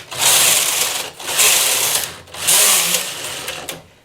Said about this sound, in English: the lace carriage selects the needles and transfers the stitches